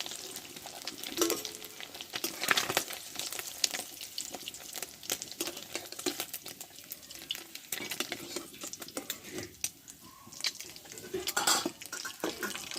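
Eggs fry in hot oil with a steady, close sizzle, joined by scraping and tapping of a spatula against the pan as they are turned and lifted, with occasional louder crackles.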